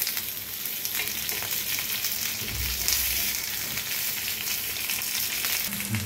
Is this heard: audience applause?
no